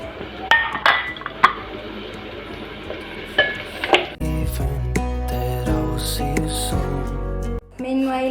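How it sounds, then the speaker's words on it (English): Meat added to cooking onions in a pot for pilau: clinks and stirring early, then a louder hissing sizzle with utensil knocks, close by, with speech present in places. "we are now going to add meat ziive pamoja so that they cook together"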